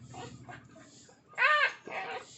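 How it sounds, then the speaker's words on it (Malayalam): Black dog tied up, giving soft whimpering whines followed by a louder, high-pitched cry and another shorter whine, close by and without talk. "കെട്ടിയിട്ടിരിക്കുന്നതുകൊണ്ടാണോ പട്ടി കരയുന്നത്?"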